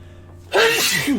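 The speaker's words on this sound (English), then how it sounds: "that was a slow rising sneeze" A single sneeze from a man, building slowly from a quiet intake of breath into a loud, close burst that tails off in a throaty release.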